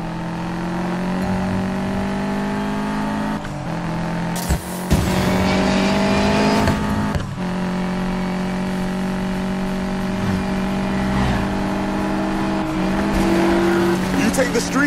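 Racing cars in the video game Need for Speed Payback roar steadily with engine drone, revving and brief tire squeal, loud and continuous, with a few sharp impacts partway through.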